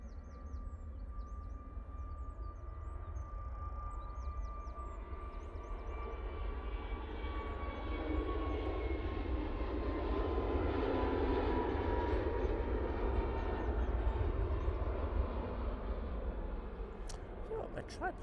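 An easyJet Airbus A321neo at Manchester Airport produces a distant, broad engine roar that swells slowly and fades with a thin whine, steady rumble underneath and faint bird chirps in the background.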